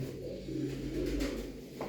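A Mardin pigeon coos in low, soft, steady tones close by, with a faint background hum and no talking.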